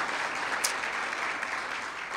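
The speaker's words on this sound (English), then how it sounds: "I want to give a big round of applause to Jillian as well." Audience applause at a community luncheon, a steady wash of clapping from a room of people that holds at an even level from start to finish, with no voices rising above it.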